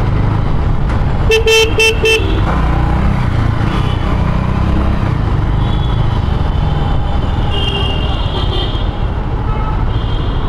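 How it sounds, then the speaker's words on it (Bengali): Evening traffic jam on a city road near Kolkata, heard from a motorbike: loud rumbling engines with several sharp bursts of car horns near the start and lighter honks later, no talking. "এইখানটা বড্ড ট্রাফিক জ্যাম"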